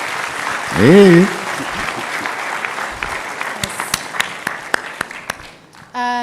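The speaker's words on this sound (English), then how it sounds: "So please, a round of applause" An audience at a medical education event gives a round of applause, a burst of scattered claps that thins to a few sharp, separate claps, with a short spoken exclamation at the start.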